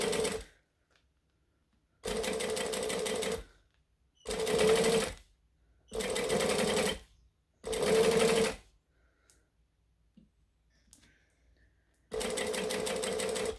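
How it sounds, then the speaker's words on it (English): A sewing machine runs in five short top-stitching bursts of steady whirring, each separated by pauses of near silence, and then starts up again at the end. Close by and fairly quiet. "And I'm top stitching. So I'm doing it 1/8 of an inch from that fold."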